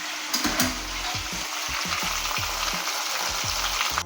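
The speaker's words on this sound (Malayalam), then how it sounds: "കുറച്ച് പൊരിയിട്ട് അങ്ങനെ നമ്മൾ ചിക്കൻ ഷവായ ഇതെല്ലാം തിരിച്ചിട്ട് കൊടുത്തിട്ടുണ്ട്" Chicken shawaya pieces sizzle steadily in a hot pan, the continuous frying hiss broken by repeated soft knocks and scrapes of stirring, close and alone without talk.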